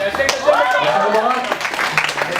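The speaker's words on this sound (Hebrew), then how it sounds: "ומלא כפיים לברק." Audience applause for a competitor at a West Coast swing Jack & Jill dance competition, steady clapping from a crowd running under an announcer's voice throughout.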